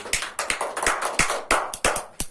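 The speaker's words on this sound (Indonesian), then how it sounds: "tepuk tangan untuk semuanya" A small group clapping hands at a disability-awareness training session, a string of sharp, close claps in an uneven rhythm, with no one talking over them.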